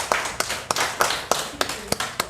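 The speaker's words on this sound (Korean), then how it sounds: "우리 이제 박수 한번 그래도 보내주셔야죠." Audience applause at a Won Buddhist temple service, a dense bed of clapping with sharper individual claps standing out, moderately loud and steady across the moment with no talk over it.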